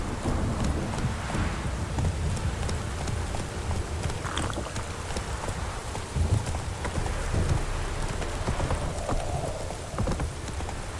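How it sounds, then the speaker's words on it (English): A heavy rain downpour in the video game The Witcher 3 hisses constantly, with low rumbles of thunder and occasional horse hoof clops mixed in, dense and steady throughout. "This downpour's a bastard,"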